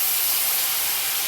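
Tomato puree hits hot oil tempered with black cumin and torn green chilli, producing a loud, steady, broadband sizzle with no talk over it.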